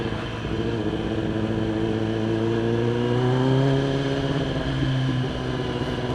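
A remapped Kawasaki ZX10R sport motorcycle revs on a dyno, a loud, sustained engine drone whose pitch climbs slowly and steadily, with no voices over it.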